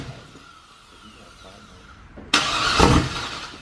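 A turbocharged LS truck V8 swapped into a Corvette fires for the first time, a sudden loud, rough burst that barely catches for about a second after a quiet stretch of faint background noise.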